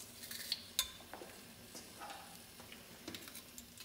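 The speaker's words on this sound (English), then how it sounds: "Now you're just going to stir this up" Onions and garlic being stirred in oil in a soup pot, giving soft scraping and light clinks of a utensil against the pot, with a faint sizzle underneath and no talking.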